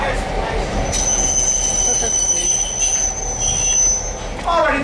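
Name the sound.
train wheels squealing on DL&W railroad ride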